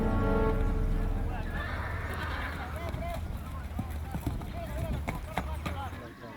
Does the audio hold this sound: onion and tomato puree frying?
no